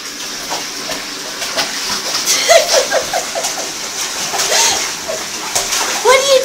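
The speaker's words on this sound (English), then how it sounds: "Turn the water on." A dog splashes and plays in water pouring from a tap, with steady splashing and gushing that rises and falls, punctuated by short whining or yelping cries and voices nearby.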